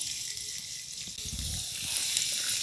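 Chopped garlic fries in white oil in a wok for a pizza sauce, producing a quiet, even sizzle that swells slightly toward the end, with no voices.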